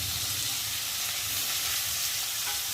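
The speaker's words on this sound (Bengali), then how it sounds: "দিয়ে মশলাটা একটু ভালো করে তেলের মধ্যে কষিয়ে নেব।" Garlic, onion, ginger and cumin pastes with green chillies and tomato sizzle steadily in hot oil for a rohu fish curry, a continuous close frying hiss with no talking.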